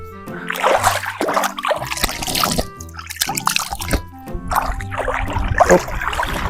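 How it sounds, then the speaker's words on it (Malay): Dark peat-stained forest water trickles and drips near the listener. Small splashes and gurgles come in uneven bursts, with brief watery plops and a constant soft background wash. "sini airnya air warna hitam, air dari hutan lah"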